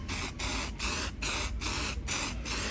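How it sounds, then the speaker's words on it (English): Repeated short hissing bursts from a spray can, about seven evenly spaced sprays in quick rhythm, close and steady, used on new seats for a 2001 Mitsubishi Mirage 1.8. "and then you want to spray"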